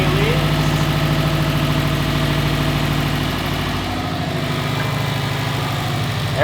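A 2006 Subaru WRX fitted with a bigger turbo idles steadily up close, a low, even rumbling pulse with a faint shift in tone partway through.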